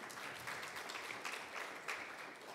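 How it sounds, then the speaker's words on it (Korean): An academic conference audience claps for the presenters and discussants, a soft, distant, steady patter of applause from a modest crowd in a hall. "발표와 토론을 담당해 주신 천호준 교수님과 옥광 교수님께 박수 부탁드립니다."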